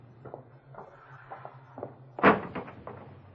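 A street door opened as a radio drama sound effect, heard as soft shuffles and knocks leading into a loud latch-and-swing clunk, then a few lighter knocks.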